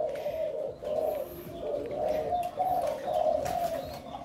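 Pigeons coo steadily in a repeating, low throaty rhythm, close and fairly loud, with faint chirps and background noise in a bird-keeping setting.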